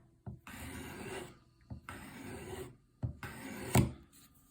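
A knife tip is drawn along the guide of a Work Sharp field sharpener three times, each stroke a short, close, dry scraping rasp with soft clicks between passes.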